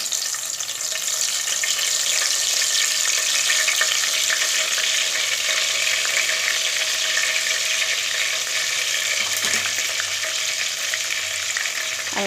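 Masala-stuffed eggplants sizzle and crackle steadily in hot oil, loud and close, a continuous frying hiss with no voices.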